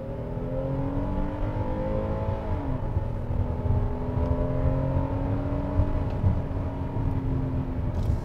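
A 2020 Hyundai Palisade 3.8 gasoline SUV driving in sport mode, its engine a steady droning hum with rising and falling tonal whine under road noise, heard from inside the cabin with no talk.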